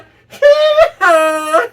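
A voice imitates a donkey's bray in two long, strained, wavering calls with a brief break between them, loud and close.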